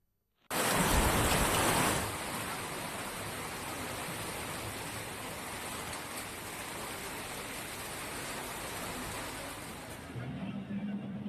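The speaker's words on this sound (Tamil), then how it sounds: "பட்டுக்கோட்டையில் 1 மணி நேரத்திற்கும் மேலாக கனமழை பெய்ததால் சாலைகளில் மழைநீர் பெருக்கெடுத்து ஓடியது" Heavy rain pouring down in Pattukkottai, a dense, steady hiss of downpour that comes in sharply loud for the first moments and then holds as an even, continuous wash.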